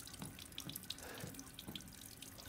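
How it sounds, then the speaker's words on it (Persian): A water tap runs steadily inside the video game Resident Evil Village, a quiet continuous gush with faint splashing, heard alone without talk. "آب باز کنیم که چی بشه."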